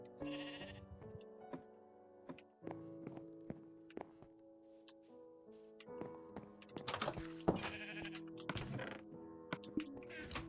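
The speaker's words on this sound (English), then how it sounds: "Alright, sheep, how did you escape your pen? Because I know you're out here, I hear you." Sheep bleating in Minecraft, several short blocky bleats scattered across the scene amid footstep thunks and block sounds, moderately close with no talk.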